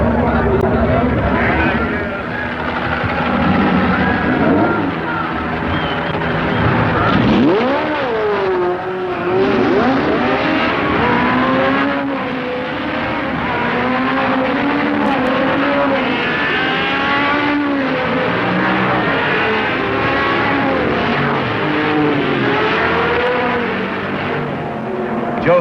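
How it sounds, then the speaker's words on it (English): Porsche race cars roar away from the Le Mans-style start of the 1969 Sebring 12 Hours, car number 31 leading three team cars: loud, overlapping engines climb and fall in pitch as they rev and accelerate, with voices mixed in. "Joe Sifford is first away in Porsche number 31 and leads 3 other team cars in what appears to be a Porsche parade"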